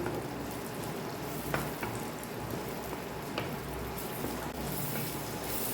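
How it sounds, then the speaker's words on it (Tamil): Chopped onions sizzle in hot oil while being sautéed for a mushroom masala, a steady close crackle with scattered sharper pops and no voices. "இப்போ நம்ம வெங்காயத்தை போட்டாச்சு. வதக்க ஆரம்பிச்சிடலாம்."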